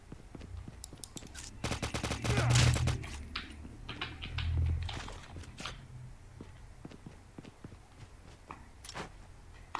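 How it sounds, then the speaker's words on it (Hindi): Gunfire in the Call of Duty video game, with bursts of rapid shots and scattered single cracks over a busy in-game background, loudest early on and fading into sparser shots. "यहाँ पे और बंदे हैं जो कि फायर कर रहे हैं"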